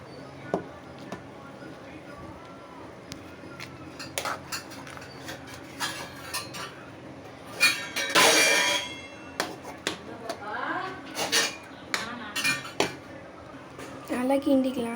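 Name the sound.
stirring paruppu sadam rice in a pot after transferring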